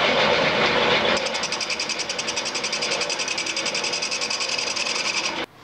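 A wood lathe turns a splash bowl while a tool rounds over its edge, making a loud continuous hiss with fast, even rhythmic chatter that cuts off abruptly at the end.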